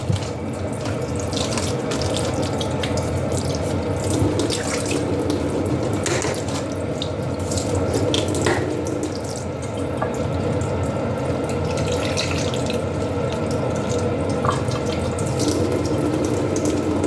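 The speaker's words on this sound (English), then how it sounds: "We use the water that comes out of the purified water faucet filter." Steady stream of purified water running from a faucet filter into a sink, continuous and close, with a few small splashes and drips throughout.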